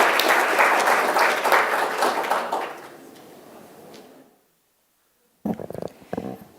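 Applause for Ms. Heaton at a 2018 election forum on various initiatives, loud at first and then thinning out and fading to silence, followed by a few faint knocks and shuffles.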